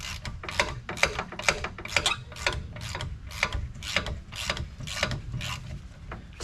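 Ratchet on a long extension undoing a brake bolt on a 2015 Hyundai Elantra during a brake pad and rotor job: a steady run of quick, sharp metallic clicks, about two per second, close up over a low background rumble.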